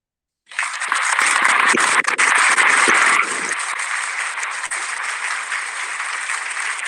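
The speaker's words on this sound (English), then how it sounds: "Can we get a round of applause for Mr. Unknown?" A crowd bursts into loud, sustained applause that starts abruptly, then settles into steady clapping and cheering continuing to the end.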